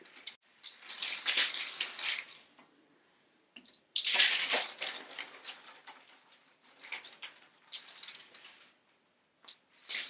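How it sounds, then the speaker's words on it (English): Parchment paper being peeled away from a thin gluten-free, dairy-free paleo dough, heard as irregular crinkling and tearing rustles in two close, fairly loud bursts with short pauses between them, no talking. "Just peel the parchment off."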